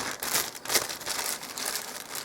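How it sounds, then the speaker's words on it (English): A plastic kitchen sandwich bag crinkles while wrapping a piece of polymer clay, making continuous close rustling with a few sharper crackles. "I'm going to put it in this plastic bag, a sandwich bag from the kitchen."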